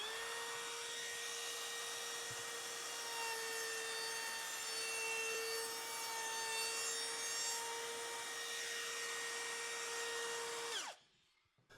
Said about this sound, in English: I'll use a roundover bit in the router to soften the hard edge of the hole on the inside of the box.